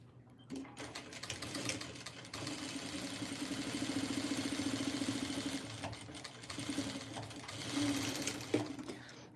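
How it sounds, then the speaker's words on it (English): A sewing machine stitches quilt fabric at a slow, steady pace, its motor whirring with a fast mechanical rattle that swells and eases in short runs, close up and alone. "Trying to sew slow so that my machine doesn't get too loud for you guys."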